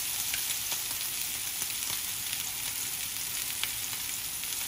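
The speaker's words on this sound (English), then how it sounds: "Just add the garlic cloves from the bag that was cooking with it." Garlic cloves sizzling in hot oil in a pan beside a sous vide London broil, a steady bright crackle with scattered sharp pops, close and continuous with no talk.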